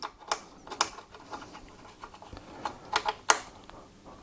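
Screws being tightened on the base of a noblechairs EPIC TX gaming chair, a run of irregular close-up ratcheting clicks and small metallic ticks from the tool, fairly quiet with short pauses between turns.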